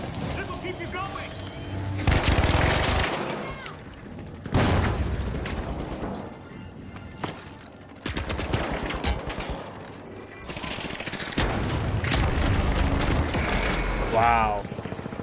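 Gunfire and RPG blasts in the video game The Finals, loud bursts of shots and booming explosions recurring across the clip, mixed with voice chatter and game effects.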